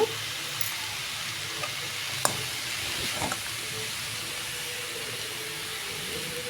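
Cooked leafy greens for a Karnataka-style palya sizzle and hiss steadily in hot oil tempering, with a few sharp scrapes and clinks of stirring.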